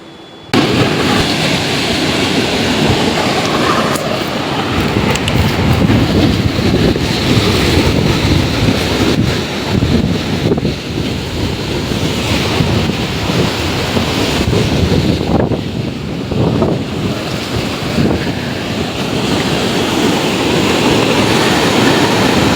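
Loud, steady rush of fast-flowing river water at a dam roars without a break, dense and close, with no voices.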